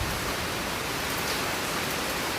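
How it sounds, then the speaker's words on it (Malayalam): Heavy rain falling outside, a dense, even wash of broadband hiss that holds steady for the whole short stretch with no voices. "പുറത്ത് നല്ല രസമായിട്ട് മഴ പെയ്തുകൊണ്ടിരിക്കുകയാണ്"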